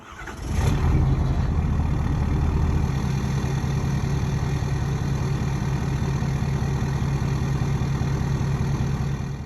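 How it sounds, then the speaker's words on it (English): A 6.7 Power Stroke diesel pickup truck with its stock exhaust idles, a steady, loud, deep rumble that starts just after a brief quiet moment and holds evenly to the end. "So the first one will be the stock exhaust"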